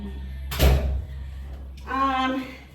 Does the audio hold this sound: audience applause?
no